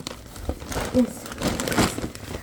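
Plastic bag pulled out of a box, crinkling and rustling in short close bursts, with a voice talking quietly underneath.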